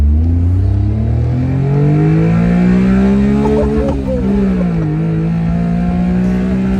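A Honda Beat kei car weighing about 1,600 pounds revs toward its 9,000 rpm rev limiter. Its high, buzzing engine drone climbs steadily in pitch, dips briefly midway, then holds loud and close throughout.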